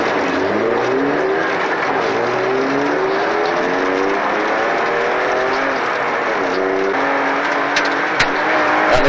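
A rally car launches from a stage start on the Arctic Lapland Rally, its engine revving hard through rising gear changes, loud and close from inside the car.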